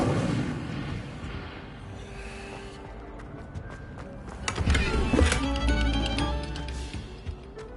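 Incendio fire spell cast in Hogwarts Legacy: a sustained roaring crackle of magical flame swells to a loud, forceful burst in the middle and keeps rumbling near and close over a low game soundscape, with no voices.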